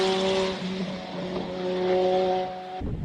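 A turbocharged rear-wheel-drive four-cylinder Mark II Ford Escort races up a hill climb course near Cape Town, its engine note droning with steady tonal harmonics, swelling and easing as it passes, then cutting off abruptly near the end.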